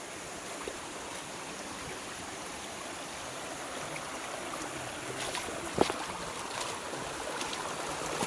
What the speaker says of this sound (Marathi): पाण्याचा झरा या ठिकाणी छोटासा झरा आहे